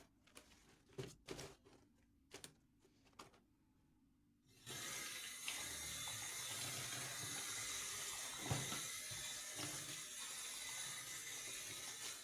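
White artificial flowers are handled in a sink with bleach and detergent: a few sharp clatters and knocks in near silence, then tap water gushes in a steady, loud stream.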